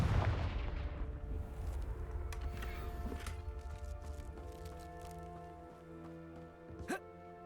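The Confringo blasting spell in Hogwarts Legacy goes off as a booming, explosive burst that quickly fades into a lingering rumble, followed later by a smaller crackling impact.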